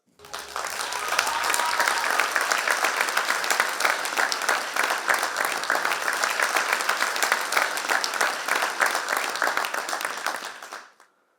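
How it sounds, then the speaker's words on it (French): An audience applauds a guest speaker at a youth event, a sustained dense wash of clapping that holds steady for about ten seconds before stopping abruptly. "Merci d'applaudir Marie-Élisabeth Fontaine."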